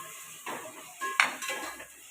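Prawns sautéing in a pan with turmeric and red chilli powder: a faint sizzle with a few soft utensil clinks and one sharper metallic knock.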